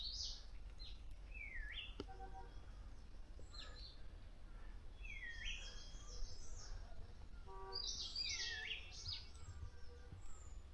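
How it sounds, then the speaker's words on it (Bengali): Assorted birds chirp and whistle along a forest trail lined with cinchona trees on the way to Tiffindara View Point near Rishop, with scattered calls over a steady low rumble. "বিভিন্ন রকম পাখির ডাক শুনতে পাবে"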